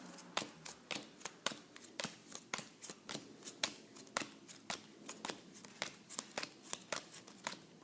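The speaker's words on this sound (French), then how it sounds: "avec ça, vous allez faire deux tas de 15 cartes." Playing cards are dealt one at a time into two piles of fifteen, each card landing as a quick, soft snap in a rapid, fairly even rhythm. The sounds are close and quiet, with no voices.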